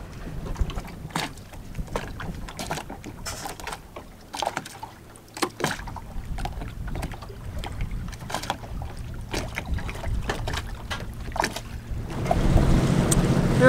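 A boat motors across calm water off the eastern side of Bora Bora, its engine a steady low drone under wind and splashing, with a louder rush of water and engine near the end.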